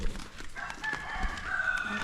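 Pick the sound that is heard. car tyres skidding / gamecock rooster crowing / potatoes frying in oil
gamecock rooster crowing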